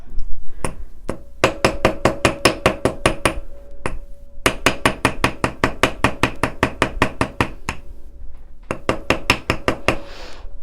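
A nylon hammer taps jewelry wire for wire-wrapped earrings in quick, even bursts of sharp knocks, each group a dozen or more strikes long, with a faint metallic ring under the hits and brief pauses between runs.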